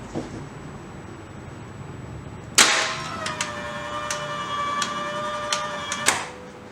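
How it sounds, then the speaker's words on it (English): Hyundai HGN16 air circuit breaker being tripped manually on a 220-volt AC test supply: a single sharp, loud mechanical snap, then a ringing metallic tone with a few light clicks before a second click ends it. "At first, we trip the breaker manually."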